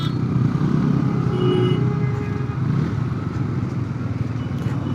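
A Bajaj Pulsar N160 160cc motorcycle being ridden, its engine a continuous mid-low drone with wind noise, holding steady throughout without speech.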